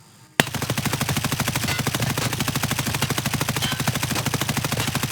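An M4 rifle in the video game Escape From Tarkov opens up in full-auto, a sudden start followed by a long, rapid, steady stream of loud close shots with no pauses.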